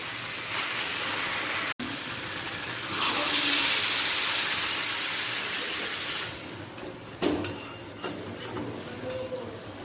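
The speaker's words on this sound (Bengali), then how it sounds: "এরপর দিয়ে দেব গরম জল" Hot water pours into a pan of potato and pointed gourd curry cooked in spices, a loud continuous splashing rush that swells midway and then fades, with a few clattering knocks near the end.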